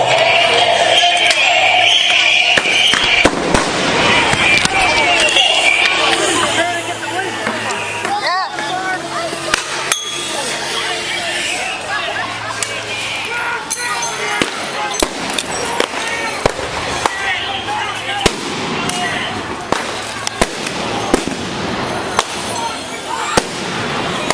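Less-lethal blast ball grenades go off in a chaotic street scene, with repeated sharp bangs and crackling pops scattered through a constant roar of crowd noise, loud and near throughout.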